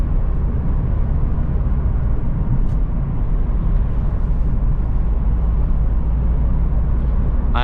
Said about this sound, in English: I am already in the 6th gear, and as you can see, the RPMs are very low